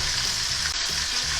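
Tilapia frying in a pan for escabeche, a steady close sizzle holding at an even level throughout with no talking.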